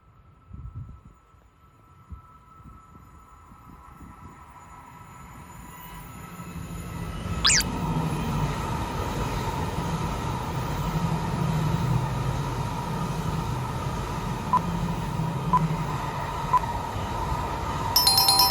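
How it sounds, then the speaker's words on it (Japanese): A coupled Tohoku Shinkansen Hayabusa and Akita Shinkansen Komachi train approaches from faint distance, building into a loud rushing roar with a sharp high squeal as it arrives, then a sustained humming rumble as it passes close by. "この電車は東北新幹線はやぶさと秋田新幹線小町。"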